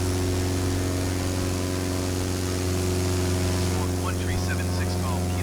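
Steady propeller engine drone of a JustFlight PA-28R Arrow III in Flight Simulator 2020, a loud continuous hum with strong low tonal bands heard from outside the aircraft, holding level throughout with no talk.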